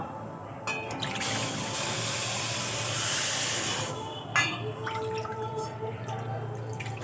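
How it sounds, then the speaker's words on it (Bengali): Water pours steadily into a pan holding sugar for sweet semolina pitha syrup. A loud, continuous splashing rush lasts about three seconds, then fades to quieter drips and bubbling. "দু বাটি জল দিয়ে দেব"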